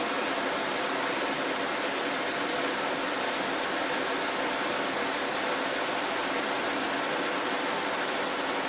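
Rain falls in a cartoon story about a fox family, a steady, even hiss of rainfall throughout with no voices, fairly soft and continuous.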